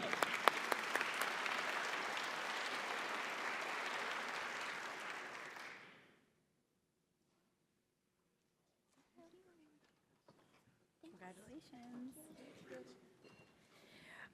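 Loud, sustained audience applause fills a hall at an HR employer summit honouring the Top 20 Best Places to Work. The clapping lasts about six seconds and then stops abruptly, followed by silence and a person speaking.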